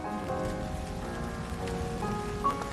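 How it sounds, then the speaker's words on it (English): Steady rain falls throughout, a dense patter of drops striking surfaces close by, continuous and fairly loud with no voices. "But at least the rain was getting heavier."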